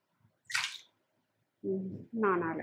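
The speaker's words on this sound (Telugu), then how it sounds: "వాటరు ఇట్లా మునిగేటట్టు పోసుకోవాలి" Water poured into a container of soaking rice and lentils for dosa batter makes a short, bright splash, followed by a voice speaking.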